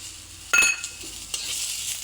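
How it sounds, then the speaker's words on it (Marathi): Onion and dried coconut fry in a kadhai with a continuous close sizzle, broken by a sharp metallic clink of the spatula and a couple of stirring scrapes. "तर आपण सगळ्यात आधी कांदा आणि खोबरं भाजून घेऊ."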